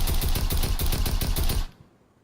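Tactical assault rifle firing full-auto in a Battlefield-style video game, a loud rapid burst of evenly spaced shots for about a second and a half before cutting off abruptly into a brief fading tail.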